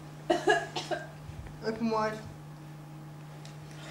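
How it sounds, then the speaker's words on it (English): A woman with a serious lung infection coughs a few times, rough and close, followed by a raspy breathy sound and then quiet with a steady background hum. "Cough."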